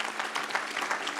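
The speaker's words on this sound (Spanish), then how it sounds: "Dale un aplauso al Señor." Brief burst of congregation clapping at a church service, dense and steady, with no voices over it.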